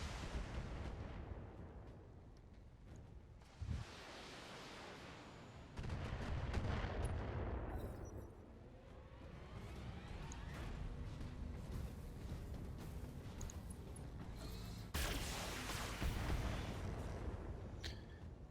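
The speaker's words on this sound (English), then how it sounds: "At least they're shooting at the vehicles and not at us." Mechs trading fire in a Thorium Mercs battle, with repeated heavy cannon blasts and bursts of rapid gunfire layered over a constant rumbling combat din, loud and sustained with no voices.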